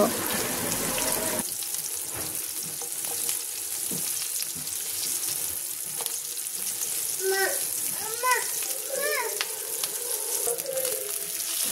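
Dried chilies, chopped onion and garlic sizzle in hot oil for a tempering, a steady close frying hiss that runs throughout, with a few faint chirps from the background partway through.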